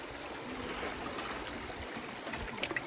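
Steady rushing stream of water flowing over gold sluice mats as they are rinsed during Virginia gold prospecting, a continuous close wash with small splashy bursts near the end and no talking.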